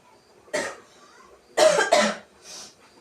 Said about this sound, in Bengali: কাশি হচ্ছে, লঙ্কার গুঁড়ো নাকে ঢুকে গেছে।